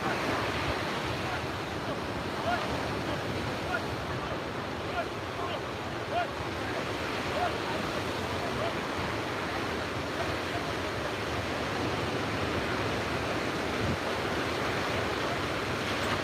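Ocean surf at Umzumbi flats, Natal, a steady broad wash of breaking waves with wind rumbling across the microphone, continuous and fairly close.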